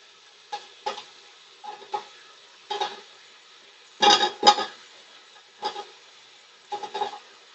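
Cut potato and cabbage tipped into a pan and stirred: a series of short, close scraping and clattering bursts, about a dozen spread unevenly over several seconds against near silence, with a light sizzle.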